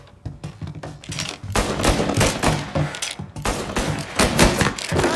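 Gunfire in the video game Mafia Definitive Edition, with dense bursts of rapid shots and loud cracks in quick clusters, separated by short quieter gaps.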